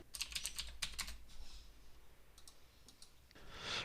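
Rapid keystrokes on a computer keyboard while Python code is typed, a quick burst of clicks at the start, then sparser taps and a short louder flurry at the end, close and alone with no talking.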